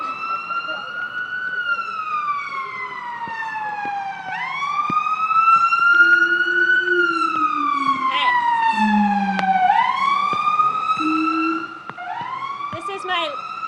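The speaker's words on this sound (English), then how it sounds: "We're going to wait for this ambulance." A passing ambulance's wailing siren sweeps up and down in long repeated cycles, loud and close, with a vehicle engine rumbling underneath.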